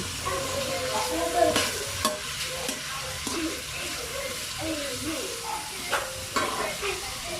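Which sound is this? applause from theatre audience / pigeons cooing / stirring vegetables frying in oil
stirring vegetables frying in oil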